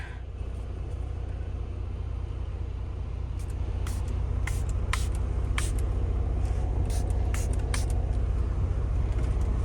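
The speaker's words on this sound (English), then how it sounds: "now I'm gonna go ahead and spritz this on" A few short, sharp spritzes from a spray bottle onto a steering wheel cover, heard close inside a vehicle over a steady low engine rumble.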